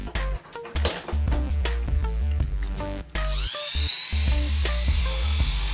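A single-speed Oster Turbo A5 hair clipper with hair caught inside rattles and clicks while it is handled, then switches on to a sustained, high, close mechanical whine with no voices.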